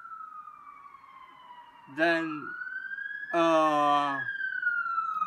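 A police car siren wails in a steady rising glide, interrupted twice by a person talking over it.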